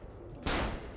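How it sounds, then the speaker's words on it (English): A concealed gun fires in the Assassin's Creed Brotherhood video game, one sudden loud blast that rings on briefly after the shot. "I just love that hidden gun."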